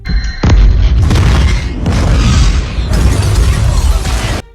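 A thrown bomb hits a helicopter in Stranger Things and explodes with a loud boom. A heavy, sustained roar of crashing and bursting debris follows, rising again in waves.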